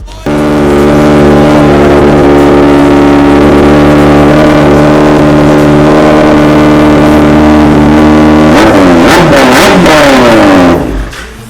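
A Kawasaki superbike engine idles loudly and steadily close by, then revs hard in several sharp bursts near the end before cutting off abruptly.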